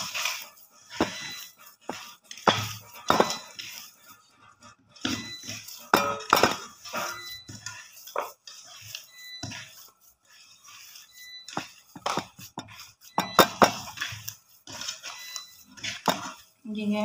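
Potato paratha filling being mixed in a bowl gives scattered clinks and scraping knocks of a utensil against the bowl, irregular and close, with a voice talking in between.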